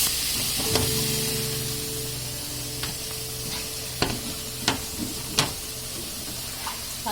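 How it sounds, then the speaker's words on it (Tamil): Ground masala paste sautés lightly in a hot pan with a steady soft sizzle, punctuated by occasional sharp clicks and scrapes of stirring. "இந்த டைம்ல நம்ம அரைச்சு வச்சுக்க மசாலா ஆட் பண்ணிக்கலாம். இந்த சூட்டுல வதங்கணும் லைட்டா"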